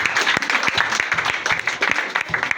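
Congregation applauding at a church prayer service, a dense, steady wash of many hands clapping close by with sharp individual claps standing out, no talk over it.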